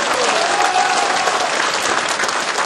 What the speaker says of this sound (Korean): 이인영 최고께도 축하의 박수를 보내주시기 바랍니다